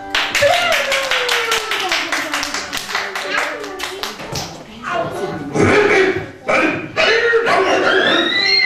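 Children and guests at a fourth birthday party clap in a fast, steady burst of many hands, with an adult voice speaking over the applause and cheerful chatter mixed in.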